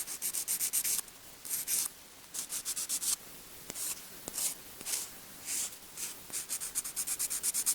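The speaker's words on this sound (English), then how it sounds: "I am going to do just some light buffing. Kind of smooth it out a little bit." Light buffing of a dip powder nail, with quick close scratchy strokes in short bursts, pausing briefly between passes.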